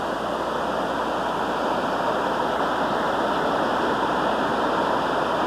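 A steady, heavy roar of falling water, broad and unbroken, close and loud throughout with no talking.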